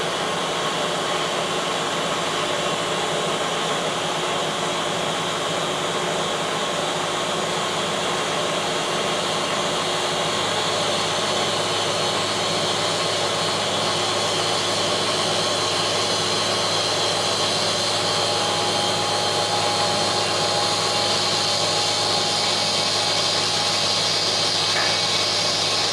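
A Bridgeport V2XT CNC machine runs a program while machining a part, giving a constant loud broadband whir and hiss with steady hum throughout, close and unbroken, no voices.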